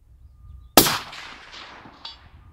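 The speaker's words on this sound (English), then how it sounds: "Okay, that's one shot, that's the bottom of the chest." A single rifle shot cracks sharply, fired at a deer target, with its report ringing out and decaying over about a second, followed by a fainter distant impact or echo.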